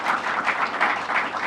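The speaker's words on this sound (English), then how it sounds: "Let's give them a round of applause as well." An audience at a housing announcement applauding, dense continuous clapping from many hands heard throughout the short stretch.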